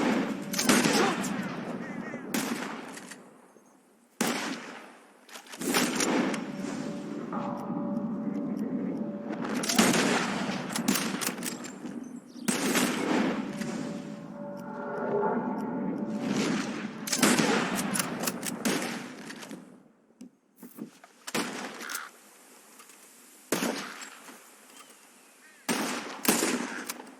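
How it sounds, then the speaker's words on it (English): Red Dead Redemption 2 gunshots fire at birds in the sky, with loud, sharp rifle cracks coming singly and in quick clusters, interspersed with talking voices. "whoever shoots 4 birds out of the sky first wins"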